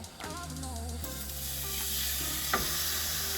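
A steak sears in a hot pan, a broad, continuous sizzle that grows louder and holds steady after a brief clatter, with a few faint knocks.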